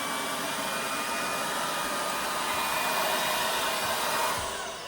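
The auto dust collection station of a UWANT V500 cordless stick vacuum runs with a loud, steady, airy roar close by, holding constant for several seconds before easing off slightly at the end.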